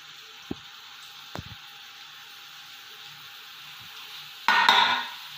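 Mom's Christmas snacks dropped into hot oil, with a few soft clinks and taps of utensils before a sudden loud hiss and sizzle of frying bursts up near the end, then settles slightly.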